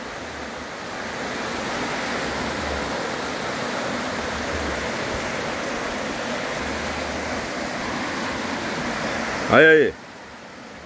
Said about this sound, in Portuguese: Olha a velocidade dessa água.